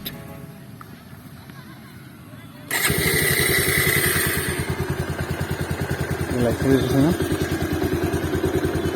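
A smart motorcycle's engine starts abruptly by voice command after a quiet stretch and settles into a steady, close, loud idle with a rapid pulsing rhythm.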